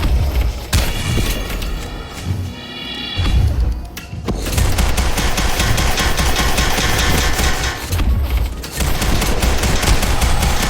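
Video game gunfire rattles in dense, loud bursts of rapid shots with booming impacts, nearly continuous over a thick layer of game music and effects, with brief lulls between volleys.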